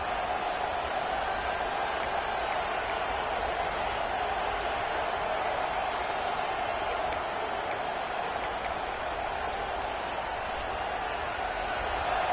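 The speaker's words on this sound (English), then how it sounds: "this crowd is fired up. Listen to this noise here" A broad, steady roar of a large stadium crowd cheering at a football game, sustained and distant-sounding, filling the space without letting up.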